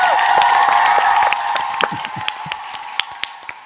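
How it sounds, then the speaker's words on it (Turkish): An audience in a packed hall claps in a dense burst of applause that fades after about a second and a half into scattered, separate claps. "Büyük bir alkış istiyorum."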